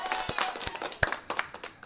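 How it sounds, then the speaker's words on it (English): A small group claps briefly and somewhat quietly, with irregular sharp hand claps over about two seconds. "I think that deserves some applause."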